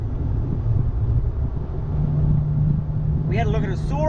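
Steady low engine rumble and road noise from a worn VVTi UCF20 Toyota Celsior (JDM Lexus LS400) driving home, continuous and close inside the cabin, with a brief voice near the end.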